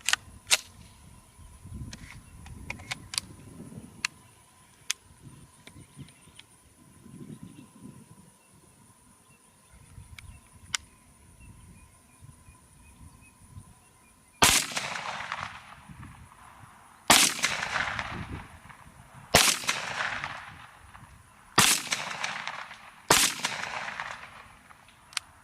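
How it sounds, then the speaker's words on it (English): Five sharp, loud gunshots from a KelTec Sub 2000 carbine ring out a couple of seconds apart at an outdoor range, each with a brief echoing tail, after a stretch of quieter handling noise. "I'm going to do 5 more rounds with the KelTec Sub 2000."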